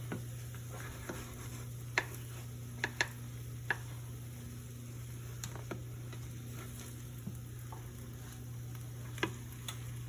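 A wooden spoon cuts and flips food frying in a pan, with scattered sharp taps and scrapes over a low steady sizzle and hum.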